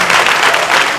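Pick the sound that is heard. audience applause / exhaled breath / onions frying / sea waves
audience applause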